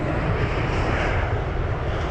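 American Airlines airliner arriving on runway 27 right at London Heathrow, a loud steady jet engine roar filling the whole span, close and continuous with no talk.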